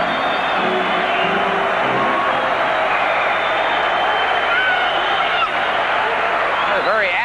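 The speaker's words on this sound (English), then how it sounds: "the fans are starting to clap and chant and cheer here at the Winnipeg Arena" Hockey fans at Winnipeg Arena clapping, chanting and cheering in a steady dense crowd roar, with a commentator talking over it throughout.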